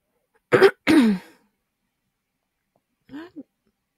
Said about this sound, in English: clearing my throat and stuff a lot.